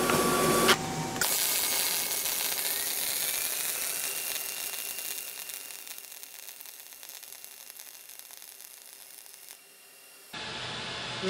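MIG welding with an ESAB Rebel EM 235, run as a steady drag at about a 5-degree angle and roughly 140 amps: a close, continuous crackling hiss that holds for about nine seconds, then cuts off, with no talking.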